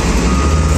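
A heavy machine arriving, its loud steady reversing beeper and engine drone filling a brief, close moment with no voices.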